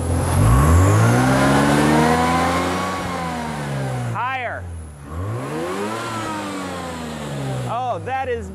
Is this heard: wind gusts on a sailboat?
no